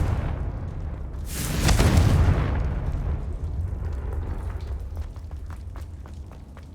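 A fiery magical blast from the Confringo spell in Hogwarts Legacy booms once with a broad rumbling burst, then fades into a low roaring tail and faint ambient crackles, with no talking.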